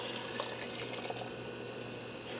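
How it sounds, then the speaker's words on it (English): Cold water and brown gravy mix being poured into an Instant Pot, a soft, continuous splashing trickle heard close up and fairly quiet, with no voices. "So that's 4 cups of water and 6 packs of brown gravy mix. I'm going to dump that down into the Instant Pot."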